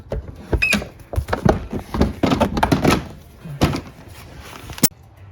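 Seat being lifted on an Arctic Cat 300 ATV: a quick series of close plastic clunks and knocks, ending with a sharp click.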